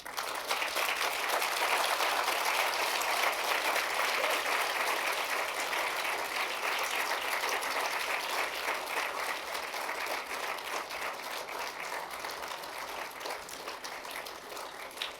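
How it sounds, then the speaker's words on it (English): Graduates at a 2014 commencement ceremony applaud their friends and family, a long, steady roar of many hands clapping in a large hall that holds evenly and eases slightly toward the end. "I would like all the graduates to rise, face towards their friends and family, and applaud them"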